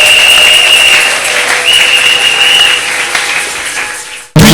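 A church congregation applauds and acclaims the Lord at a closing gathering, with loud, sustained clapping and cheering filling the room for about four seconds before cutting off abruptly.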